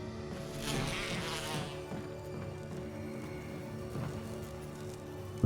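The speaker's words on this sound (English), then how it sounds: "Why must the evil bees be in here?" Bees buzz steadily inside a Resident Evil HD Remaster game scene, a continuous insect drone over low game ambience, swelling slightly early on and holding at a moderate level throughout.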